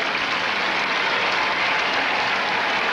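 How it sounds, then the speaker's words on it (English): A roadside crowd at the 1982 Commonwealth Games men's marathon cheers and claps the runners on, a dense continuous roar of applause at steady loudness with no speech. "crowd urging these on"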